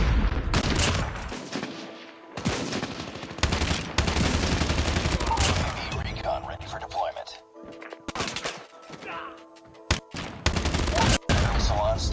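Heavy automatic gunfire from the Annihilator in COD Mobile ranked multiplayer, long loud bursts and scattered single shots with brief pauses over about twelve seconds, game sounds mixing with a talking voice.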